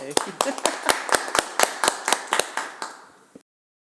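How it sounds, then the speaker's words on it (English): About a dozen sharp, evenly spaced claps ring out at a climate super-pollutant workshop, fairly close and distinct, like a small group or single person clapping in rhythm before stopping abruptly. "We should applaud him again"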